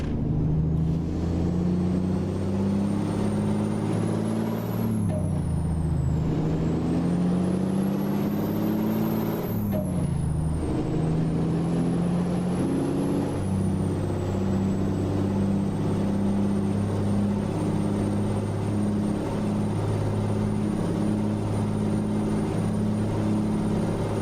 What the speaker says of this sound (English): you can really hear that turbo in this truck engine too. It's the Cummins ISX